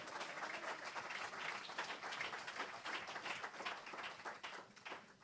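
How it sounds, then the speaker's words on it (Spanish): A church congregation claps together in praise, dense continuous applause with no clear individual claps, heard at a distance and fairly faint throughout. "Dale palmas al Señor."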